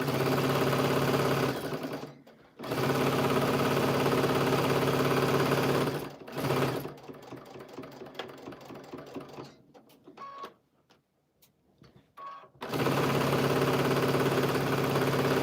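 A sewing machine runs in loud steady bursts while stitching a back tack on a quarter-inch seam, stopping briefly and restarting, with a quieter gap of near silence before the motor hums up again.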